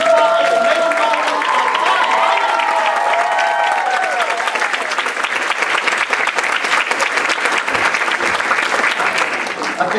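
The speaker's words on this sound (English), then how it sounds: "how about one more round of applause for Alan Andrews, Clyde, and Nathan Bowman" Sustained applause from a large audience at a volunteer gala, loud and steady for the full stretch, with faint cheering and voices mixed in at the start.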